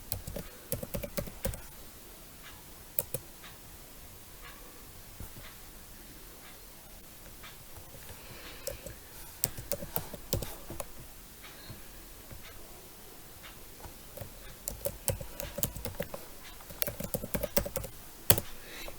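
Password being typed on a computer keyboard at a command line, a steady run of close, light key clicks in irregular bursts over faint background hiss, with no talking.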